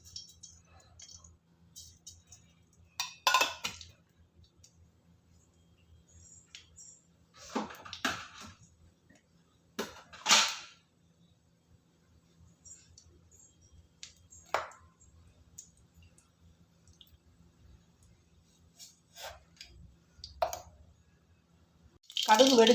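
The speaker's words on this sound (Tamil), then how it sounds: "கடுகு வெடிச்சிருச்சு." Half a spoon of mustard seeds crackle and pop in four spoons of hot oil, sparse sharp snaps scattered over quiet stretches, with someone speaking between them.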